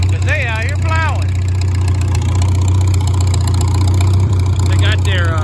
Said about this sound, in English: They got their John Deere's and old turn plows out here just getting on with it